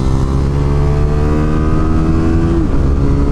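A small motorcycle on a race track holds a loud, steady engine drone right up close, its pitch level until a brief drop near the end, with rushing wind noise throughout.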